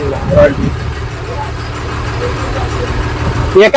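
A truck engine idles close by through a roadside confrontation over mining-soil royalty passes, a steady low rumble under continual raised voices, with a brief rough burst near the end.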